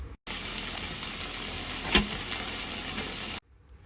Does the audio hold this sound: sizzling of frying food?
yes